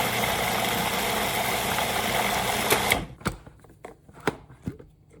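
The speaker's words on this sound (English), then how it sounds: "Close up your food processor and blend it up." A food processor blends blackberry vinaigrette in a steady, loud mechanical whir for about three seconds, then stops, leaving a few scattered knocks and clatters.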